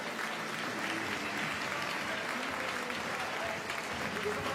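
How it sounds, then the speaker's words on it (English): An arena crowd applauds Angélique Michon, captain of the French wheelchair basketball team, during EuroBasket; broad, steady clapping that sounds somewhat distant and fairly quiet, with voices faintly underneath. "Je crois qu'on peut encore une fois applaudir très très fort Angélique."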